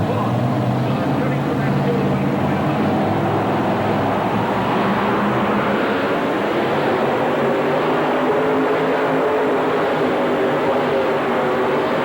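A pulling truck with a costly engine mounted far out in front roars at the 1989 NTPA Indy Super Pull, a loud, sustained, rough drone that holds for the whole stretch and shifts in tone midway.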